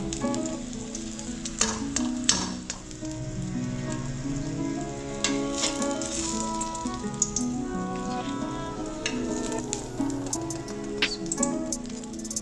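Eggplant sizzles steadily in a hot pan with tofu, a continuous close frying crackle with scattered louder pops and light patter, no talking.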